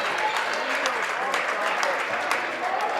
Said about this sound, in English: I hear those vicious claps,